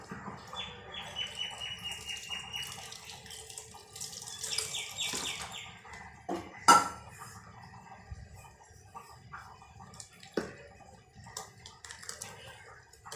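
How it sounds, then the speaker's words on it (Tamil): Water is poured into idli and dosa batter and stirred by hand in a home kitchen, giving soft splashing and squelching with a few sharper knocks and faint background chirps. "இப்போ இது கட்டியாக இருக்குது, கொஞ்சம் தண்ணி ஊற்றி கரைச்சிப்போம்."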